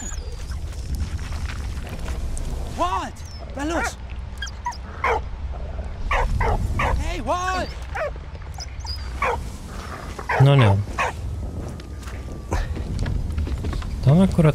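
A dog in the Valiant Hearts video game barks, yips and whimpers in a string of short, close, repeated bursts, mixed with game sounds.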